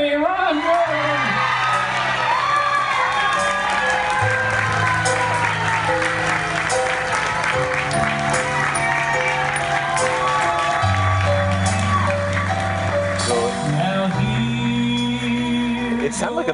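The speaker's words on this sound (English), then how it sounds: "It sounded like a big crowd." A large crowd in a packed casino showroom applauds and cheers a pageant winner announcement, with sustained clapping, whoops and shouts under a loud voice speaking over it.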